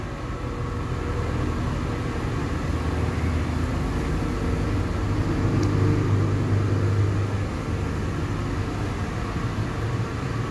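Steady, loud low rumble inside a moving train carriage, a continuous drone with a slight swell midway and no talking.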